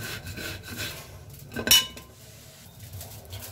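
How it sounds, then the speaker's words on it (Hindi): Jaggery rubbed against a kitchen grater, giving soft, uneven scraping strokes close by with one louder rasp partway through, and no talking. "मैं इसे कद्दूकस कर लेती हूँ।"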